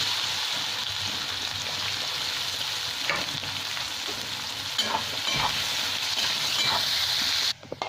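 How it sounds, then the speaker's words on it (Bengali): Onions fry in oil left from frying potatoes, making crisp birista for egg biryani; a dense, steady sizzle runs throughout with occasional stirring scrapes, close and fairly quiet. "এই তেলের মধ্যেই বেরেস্তা করে দিচ্ছি আমি"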